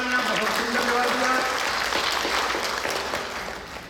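Audience applause for a student named Jyoti, a burst of clapping from a group indoors that swells then tapers off, partly under a voice.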